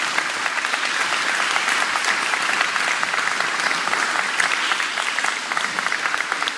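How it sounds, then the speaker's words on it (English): A crowd at a Smithville candidate forum gives all the candidates a round of applause. The clapping is full and continuous, an even wash of many hands that holds steady for several seconds with no speech over it. "If we could get a round of applause for all the candidates."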